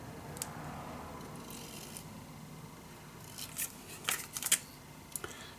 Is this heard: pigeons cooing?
no